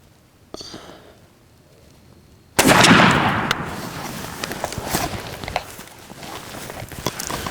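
A single loud, close blast from a shotgun firing a Double X turkey load outdoors at a target, a sharp report followed by a long rumbling decay, with faint rustling before and after.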